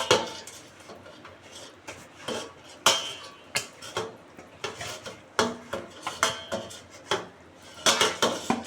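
Fish being mixed by hand with chili powder in a bowl for an aar fish kalia, giving a run of irregular clinks and knocks against the dish, near and moderately loud, with no talking.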